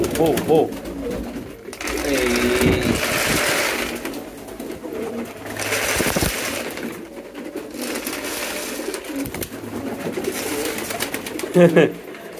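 Pet pigeons cooing close by at night, repeated low throaty coos under ongoing rustling and handling noise, with some people talking in the background.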